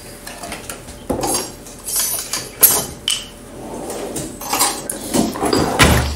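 Milk being whisked by hand in a mixing bowl, with a series of clinking, scraping strokes of the whisk against the bowl, loud and close, with no talk.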